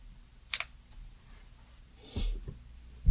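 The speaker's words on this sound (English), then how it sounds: "I'm going to cut them to be the same length." Scissors snip the two loose yarn ends of a crocheted Minecraft axolotl, two or three crisp close clicks separated by quiet pauses.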